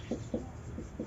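Chalk or marker strokes on a classroom board, four short quick scratches in a row, close and fairly faint.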